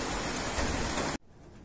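Steady hiss of rain from a thunderstorm in Moscow, dense and close, cutting off abruptly near the end to quiet.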